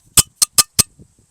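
A glass bottle of spring water clinks sharply four times in quick succession, bright and close, followed by a few faint soft knocks.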